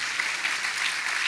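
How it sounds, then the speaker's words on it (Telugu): A church congregation at a large religious convention claps loudly together, a continuous dense wash of many hands with no talk over it. "చప్పట్లు కొట్టండి, గట్టిగా"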